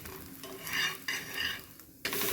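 Thalipeeth, a flatbread, cooking on a hot pan as oil is poured around its edges, giving bursts of bright sizzling hiss that swell and fade alongside light scraping, close and with no talking.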